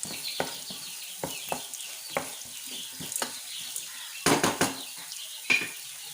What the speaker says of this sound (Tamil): ஆனியன், ஆனியன் போட்டு நல்லா வதக்கி விடுங்க.